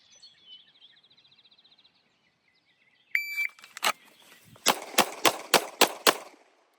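A Beretta 92XI pistol fires a string of about seven loud, sharp shots after a shot timer's electronic beep, the first shots close together then evenly spaced, following a quieter stretch of faint chirping.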